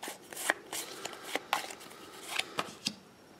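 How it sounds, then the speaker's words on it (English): Quick papery riffles and taps of playing cards being shuffled, several short bursts in a loose rhythm, close by. "put it back in, shuffle again,"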